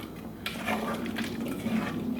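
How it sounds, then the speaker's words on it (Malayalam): Water is poured into a pot of buttermilk curry made with taro, a steady close splashing and gurgling rush that starts abruptly and continues evenly without talk. "അപ്പോൾ അതിനാവശ്യത്തിനുള്ള ഒരു വെള്ളം നമുക്ക് ഇതിലേക്ക് ഒഴിച്ചു കൊടുക്കാം"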